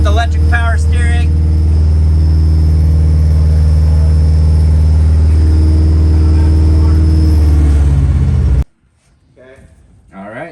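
A rally-prepped hot rod engine idles loud and close with a rough, uneven misfire pulse, a heavy low rumble that runs for several seconds before stopping abruptly, followed by quiet talking.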